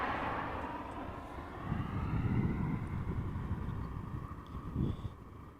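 An airliner landing at Amsterdam Schiphol with its thrust reversers engaged, heard at a distance as a broad, steady roar with a low rumble that swells briefly twice, plus light wind noise.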